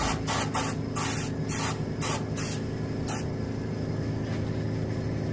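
An airbrush sprays paint onto a striped bass skin mount with a steady, close hiss over a low compressor hum, broken by several short pulses of stronger spray.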